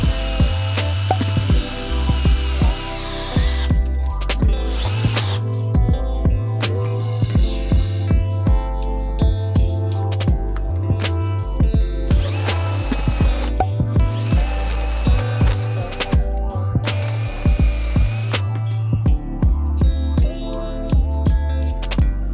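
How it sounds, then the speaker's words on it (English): Loud hole saw drilling through a van floor, grinding in repeated bursts, stopping and restarting several times with brief pauses, a steady low hum underneath. "let's drill that thing out"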